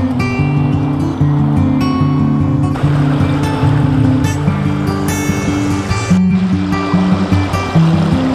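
Mountain streams in Italy rush loudly and continuously, a dense steady wash of flowing water close by, with a low tonal hum running underneath.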